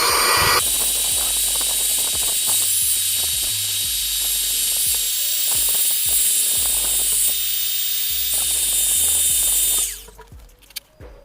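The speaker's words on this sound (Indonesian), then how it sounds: "langsung aja kita coba vakum di sini ya" A vacuum cleaner runs loud and steady, whining with a broad hiss as it cleans the cooling fan of an Acer Nitro 5 gaming laptop, with clicks and knocks of the nozzle against the casing before it cuts off near the end.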